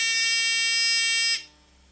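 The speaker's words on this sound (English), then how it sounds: "my buzzer goes on" A loud, steady electronic buzzer on a homemade motion-sensor robot drones for over a second, then cuts off abruptly, leaving faint background hum.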